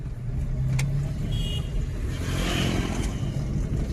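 Driving school car pulling away and gaining speed on a road in Majalgaon, a steady engine drone rising with a short horn-like tone near the start, continuous and fairly loud with no talk.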